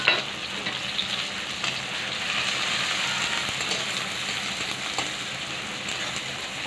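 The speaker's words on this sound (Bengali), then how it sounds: "কড়াই তেল দেওয়া হয়ে গেছে, এখন পেঁয়াজ ছেড়ে দেবো।" Onions frying in hot oil in a kadai (wok) while chow mein is being made, a steady, dense sizzle and crackle that holds close and even throughout, with no talking.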